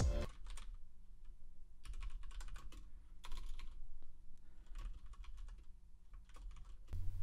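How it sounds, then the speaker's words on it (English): Rapid typing on a computer keyboard during website building, irregular bursts of close, crisp key clicks separated by short pauses, with no talking. "I don't know what I'm typing anymore."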